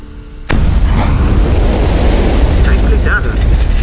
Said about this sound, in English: Watch the fireworks ahead.